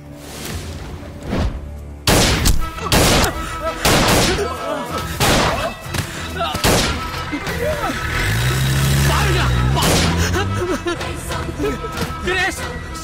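Gunfire in a Tamil film scene: several loud, sharp shots ring out one after another, followed by a rumbling engine-like roar, with dramatic voices speaking in between.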